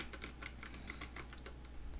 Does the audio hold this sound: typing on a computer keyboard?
yes